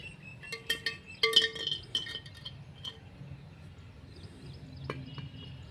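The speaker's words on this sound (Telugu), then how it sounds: "ఇది రంధ్రం ఉంటుంది కదా, అక్కడ బండలు పెట్టేసిన" Small stones are set into the drainage hole of a flower pot, making a few light, sharp clinks and taps in quick bursts early on, then a sparse later click against a quiet background.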